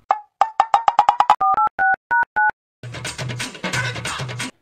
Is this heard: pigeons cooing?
no